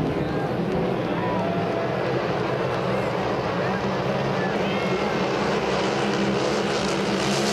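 Grand Prix race cars at full throttle through turn two at Saint-Félicien, a loud continuous engine roar with a steady low drone and a wide noisy band, a commentator talking over it throughout.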